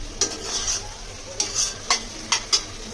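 Chopped onions fried in a pan until reddish-brown and soft, with a few sharp spatula scrapes and stirring clatters spaced across a quiet, low sizzle background.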